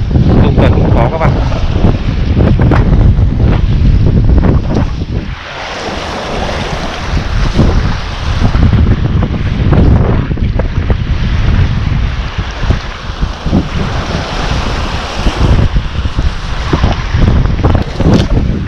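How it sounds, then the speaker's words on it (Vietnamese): Strong wind gusting across an open natural lake on a cold morning of carp fishing, a steady loud roar of wind buffeting the microphone with churning water beneath, continuous for the whole stretch with only brief lulls. "Gió thổi rất là mạnh"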